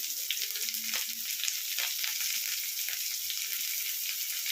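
Curry leaves and chopped dried red chillies fry in hot oil as a tempering, producing a bright steady crackling sizzle with a few soft stirring knocks, close and unbroken.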